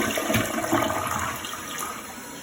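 A Toto Reliance toilet flushes nearby, a loud rushing surge of water that gradually settles into a quieter refill wash, with no voices.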